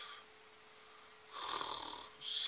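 A person vocally imitates a snore, mocking a dull movie: a quiet breathy lead-in, then a louder raspy snore-like exhale lasting just under a second, and a second rough burst starting at the end.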